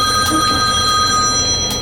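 A telephone bell rings loudly and continuously in a close, steady trill with no voices.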